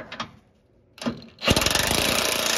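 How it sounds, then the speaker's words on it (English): A last control arm bolt being tightened on a 2007-2012 Acura RDX front lower control arm: after two faint knocks, a loud, close, rattling power-tool burst starts and runs steadily to the end. "you can go ahead and tighten this last bolt on the control arm."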